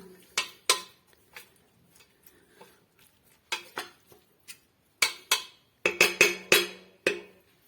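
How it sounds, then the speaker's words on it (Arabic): Chicken with green beans and spices is stirred in a pot, and a metal utensil clinks and scrapes against the pot in short, sharp bursts, irregular at first, then a quick cluster of knocks near the end. "نخلطو جميع المكونات مزيان، غير هكا نحركوهم شويه"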